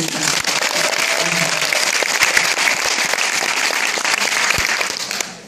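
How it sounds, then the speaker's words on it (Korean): Loud, dense applause from a crowd for a National Assembly member at an outdoor local event, continuous clapping throughout before tapering off at the end. "이 더운 날씨에 드리듯이 김윤기 국회의원님의 뜨거운 박수 부탁드립니다."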